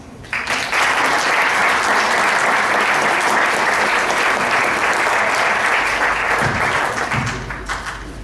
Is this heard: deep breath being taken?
no